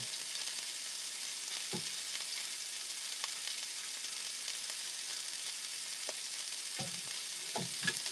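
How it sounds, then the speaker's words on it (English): Smash burgers frying on a hot grill give a steady, close sizzle throughout, with a few soft clicks and scrapes of a spatula rising above the hiss. "the key thing is to keep the grill busy. Let it cook on one side, 4 to 5 minutes each, then you flip them."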